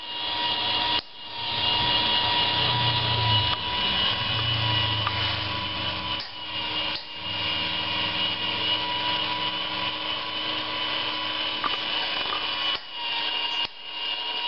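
An automated thread art machine runs with a steady mechanical hum from its small geared motor and a bicycle-tube belt. Sharp clicks from a solenoid break through at intervals as it winds thread around the pins on the wheel's edge.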